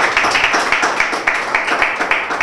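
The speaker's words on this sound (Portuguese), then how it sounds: "Sandro Steel, por favor, aplausos." Audience applause and clapping for a rap battle contestant in a Viana, Angola battle event: dense, steady clapping filling the whole stretch, close and loud, with rhythmic pulses and no talk over it.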